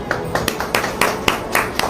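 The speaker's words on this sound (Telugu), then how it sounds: "అందరూ చప్పట్లు కొట్టండి." Children in a classroom clap together in a quick, fairly even rhythm of about seven or eight loud claps, close by.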